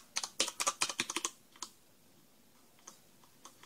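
A Ducky DK9008 Shine II backlit mechanical keyboard whose keys bottom out in a quick burst of about a dozen sharp, close clacks, followed by a few scattered single clicks in near silence.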